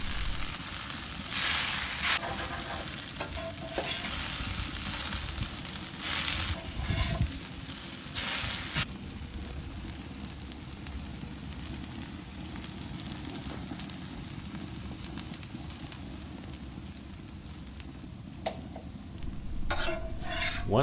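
Breakfast food frying on a flat griddle, a constant close sizzle with spatula scrapes and clanks as pieces are flipped, busiest near the start and end.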